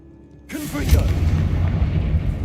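A Confringo blast spell goes off in Hogwarts Legacy, a sudden loud booming burst that rolls into a rumbling, crackling tail over the game's background sound.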